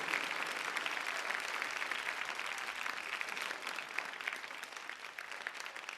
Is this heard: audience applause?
yes